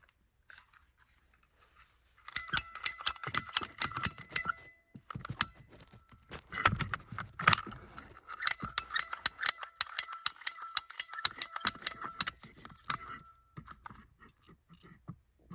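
Pipe being cut during a home water leak repair, with rapid crisp clicking and crunching snips in quick bursts, close and fairly quiet, separated by brief pauses and a few louder knocks, with no talking.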